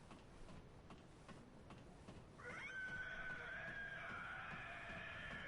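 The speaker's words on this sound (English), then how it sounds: "the scream of the Cleric Beast coming from the Great Bridge, which is supposed to foreshadow what's to come" In the video game Bloodborne, the Cleric Beast lets out a distant, drawn-out shrill scream from the Great Bridge, rising over a faint ticking background and holding steady for several seconds.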